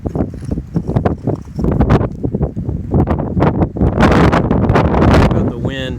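Strong wind buffets an outdoor microphone in loud, continuous rumbling gusts, with a voice speaking beneath the noise.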